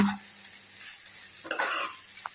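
Cabbage stirred in a pan while cooking a moong dal cabbage palya, with a quiet steady hiss and one brief scrape of the spoon partway through.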